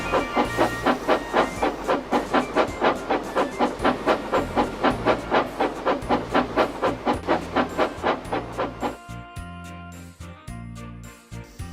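Steam engines chuff rhythmically in steady, evenly spaced puffs with hissing steam and faint metallic jingling, then the rhythm stops and a whistle-like tone and quieter rumbling follow; no talking.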